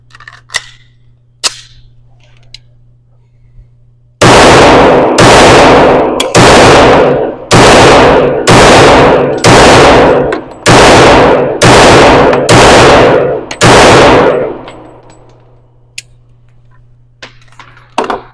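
Ten sharp, loud gunshots from a handgun at an indoor shooting range, fired in a steady, evenly spaced string with a reverberant tail after each shot, followed by quieter handling clicks.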